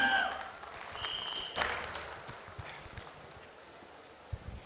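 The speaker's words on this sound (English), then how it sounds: "And if you guys could give her a round of applause, Miss Rohini Haldia, on the stage, please." Scattered applause from an audience at a PUBG esports tournament, fading from a brief burst into light, distant clapping with a few faint knocks.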